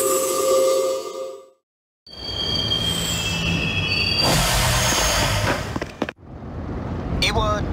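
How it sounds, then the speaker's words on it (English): A train in the video game Persona 3 runs on its rails with a loud rumbling roar and high wheel squeals. A brief silent gap falls midway, then the rolling noise and squealing return. "This is the final train bound for Tatsumi Port Island."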